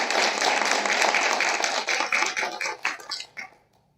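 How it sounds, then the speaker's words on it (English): An audience at a library panel event gives a dense round of applause that thins into scattered claps and fades to silence at the end. "let's have a round of applause for"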